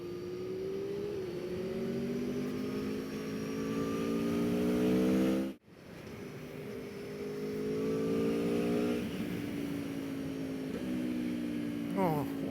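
Aprilia Tuono V4 1100 Factory naked motorcycle accelerating hard, its V4 engine climbing through the revs with gear changes, a brief cut, then pulling strongly again, loud and close throughout.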